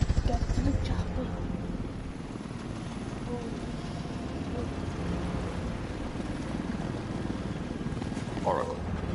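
A helicopter in the video game Batman Arkham Knight gives off a steady, moderately loud rotor drone across the whole stretch, with a low rumbling churn and no voices.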